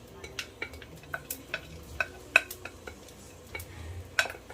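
Lentils added to a pan and stirred for a lentil bolognese, a series of sharp clinks and taps of a utensil against the pan with soft scraping and a faint sizzle between them, close by.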